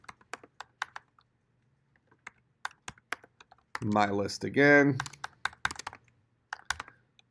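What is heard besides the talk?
typing on a computer keyboard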